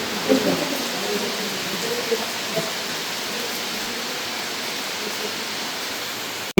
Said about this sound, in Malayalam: എന്താ മോനെ മഴ രാവിലെ തന്നെ